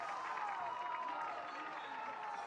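An esports watch party crowd for a VCT Americas Kickoff Valorant match reacts together in a steady, dense murmur of many voices, sustained and even throughout without sharp peaks.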